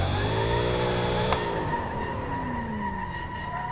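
In the Assetto Corsa racing game, a V8-swapped Mazda FC RX-7 roars at steady high revs with a tonal whine while a long e-brake drag pulls the tires into a continuous skid, loud and without any voices.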